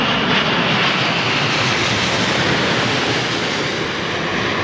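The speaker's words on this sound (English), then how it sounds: "Biman, Dreamliner, folks. Here we go." A Biman Bangladesh Boeing Dreamliner jet at London Heathrow runway 27L, a loud, steady broadband engine roar sustained and close for the whole stretch.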